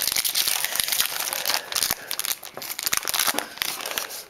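A Topps Turkey Red trading card pack is ripped open by hand, giving a dense, continuous crinkling and tearing of foil wrapper up close, with sharp crackles throughout.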